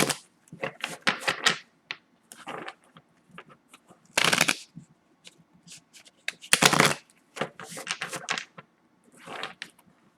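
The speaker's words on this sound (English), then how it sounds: "So let's shuffle a couple of times on camera." Keepers of the Light oracle cards shuffled by hand in repeated bursts of riffling and slapping, several separate rounds with short pauses between them, close and clear with no talking.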